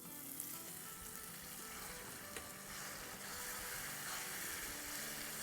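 Masala frying in a pan for a drumstick (saragwa) sabzi, a continuous dense sizzle with light stirring, close and even throughout.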